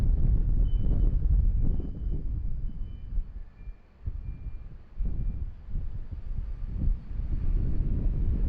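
A Jetstar plane arriving from Melbourne at Sydney Airport in strong, rainy wind, heard as a heavy low engine rumble mixed with buffeting wind noise, loud and steady with gusty dips.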